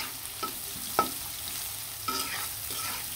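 Onions frying in a pan for a chicken dish, a soft, steady sizzle broken by a few sharp scraping clicks of a spoon stirring, close and with no voices.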